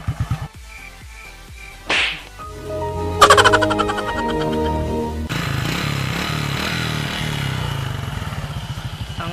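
An XRM 110 motorcycle engine, freshly fitted with new piston rings, idles and revs steadily, with a sharp snap and some clattering before the running engine settles into a continuous rumble.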